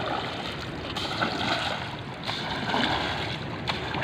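A pool brush scrubs the walls and floor of a swimming pool while kept underwater during routine cleaning, giving a steady, close, rushing wash of water and bristle noise with no speech.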